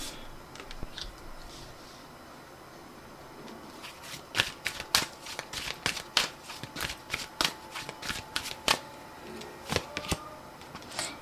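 Tarot cards are shuffled in a rapid run of crisp riffling snaps, faint and scattered at first, then denser and louder bursts from about four seconds onward, close and alone with no voices.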